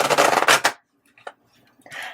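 A brisk riffle of tarot cards being shuffled, then a pause and a few soft card taps and slides.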